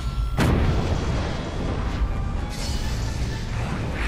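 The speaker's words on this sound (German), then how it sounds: "Nicht mehr als 5 Fässer explodieren lassen." Barrels explode in the video game Middle-earth: Shadow of Mordor: a deep boom bursts out sharply near the start, then rumbling, crackling debris noise lingers with a smaller thump a moment later.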